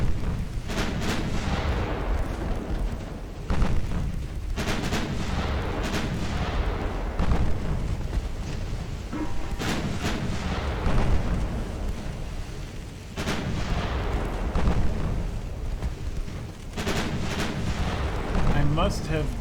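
Naval gunfire in the Ultimate Admiral Dreadnoughts warship game comes as heavy, rumbling broadside booms at irregular intervals over a constant low battle din.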